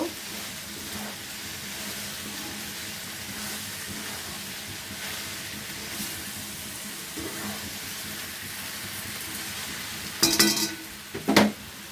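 Chopped okra sizzles in a hot pan at home, a constant frying hiss that runs throughout, with louder scraping bursts of stirring near the end.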